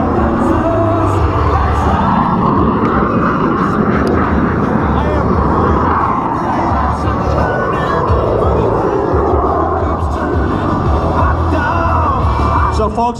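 A Yak 110 aircraft flies a demonstration at the Gunfighter Skies 2018 airshow, its loud engine roar continuous and broad throughout, with crowd noise and voices underneath.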